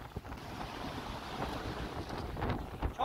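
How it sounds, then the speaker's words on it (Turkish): Wind roars and water sloshes around a sailboat in a storm on the Red Sea, rough and continuous, with a few heavier splashing surges near the end. "Yandan dalga alıyoruz"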